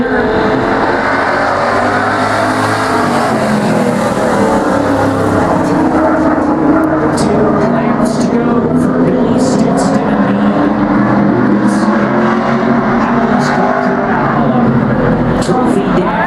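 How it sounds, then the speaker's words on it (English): Race cars roar continuously on a dirt track at a demo car and truck event, with loud, overlapping engine drone and revving. A race announcer talks throughout. "Stidston, Baker, Young, two laps to go when they come off at turn 4."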